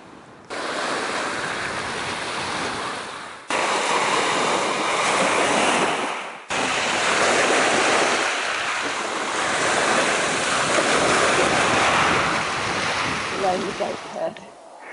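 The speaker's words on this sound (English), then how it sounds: "There we are, we've arrived at the beach." Waves breaking on the beach at Lethra Bay on the Greek island of Tilos: a steady, broad roar of surf mixed with gusty wind buffeting the microphone, continuous throughout with a couple of abrupt level shifts.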